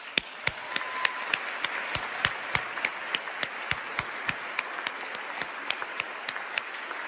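Applause at an evening performance event comes through as a sparse, rhythmic series of sharp individual claps, evenly spaced and fairly close, over a soft background crowd wash.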